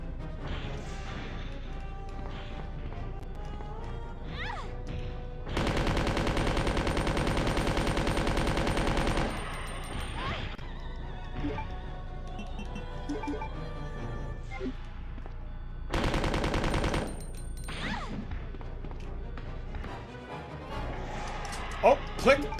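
Machine gun fire in Resident Evil 2 on the PS1 comes in two long, loud continuous bursts, one much longer than the other. A player talks in between, and scattered game sounds fill the gaps.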